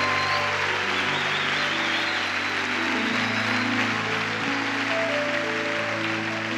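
A church congregation applauds steadily throughout, a dense continuous clapping that holds at an even level with music sustained underneath.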